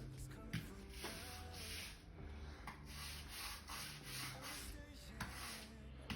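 Washing powder paste rubbed into a floor by hand, a steady close scrubbing and rubbing with rhythmic strokes throughout, no talk.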